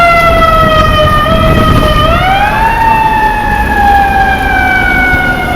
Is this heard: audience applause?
no